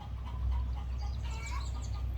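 Chickens clucking softly in the background over a steady low hum, with scattered short calls and no talking.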